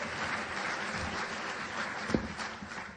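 Steady applause from a crowd, a dense continuous patter of clapping heard at moderate distance without any voices.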